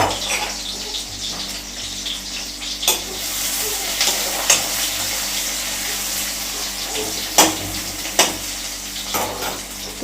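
Chopped onions fry in a pan for a morning breakfast, giving a steady broadband sizzle with a few sharp utensil clicks and knocks scattered throughout; no one speaks.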